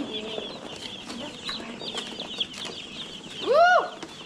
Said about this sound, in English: This one should have 100 chickens in it.